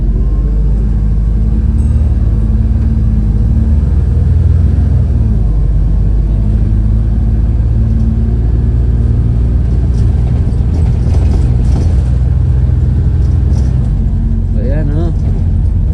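A First Doncaster Volvo B7RLE bus accelerating with a kick-down, a loud, close, continuous engine drone that rises and shifts in pitch, heard from inside the bus with a voice speaking over it.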